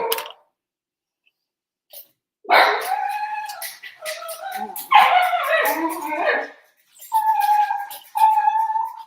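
A dog barks, whines and whimpers in a quiet room, with repeated high-pitched yelps and drawn-out cries, close and fairly loud, broken by short silences.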